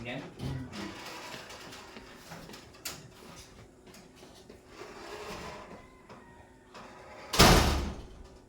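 A house door opens and closes, ending in a loud slam near the end, with people talking throughout.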